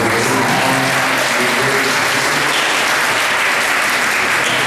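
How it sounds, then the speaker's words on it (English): Round of applause for the MCs at an evening fundraiser, a continuous loud crowd clapping throughout, close and full, with a low hum of voices beneath. "Let's give our MCs a big round of applause"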